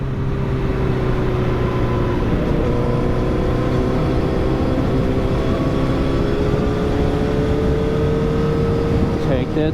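A 2008 Honda CBR1000RR motorcycle engine drones steadily while the bike is ridden, a sustained loud mid-pitched hum with gradually rising tone, heard alone without talk.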